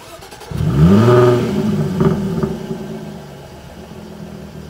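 A Jaguar F-Type S sports car engine revs hard, climbing loudly to a peak, then settling into a lower rumbling idle with a second brief blip, close by and alone.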